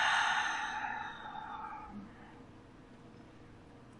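A soft, breathy exhale drifts out during guided meditation breathing, loudest at the start and gradually fading into a quiet, still room.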